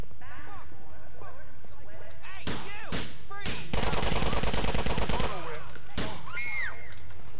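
Game gunfire from GTA IV comes in sharp single shots and a rapid automatic burst, loud and close, mixed with game voices and other in-game sounds.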